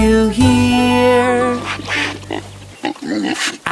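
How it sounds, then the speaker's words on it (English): A pig oinks and grunts in a short burst of rough, harmonic squeals, loud and close, followed by softer snorting sounds near the end. "I hear a pig"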